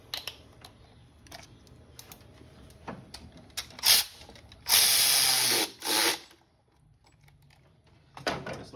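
Bolt on a new ignition coil of a misfiring, rough-running Hummer H3 run down with a tool, with brief ratcheting clicks and a few loud whirring bursts near the middle, close up.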